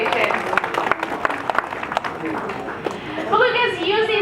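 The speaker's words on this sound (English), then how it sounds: "Let's give the belugas a round of applause for those vocalizations." Aquarium audience claps for beluga whales at a show: a short burst of scattered applause under a voice, fading as squeaky whistling calls rise near the end.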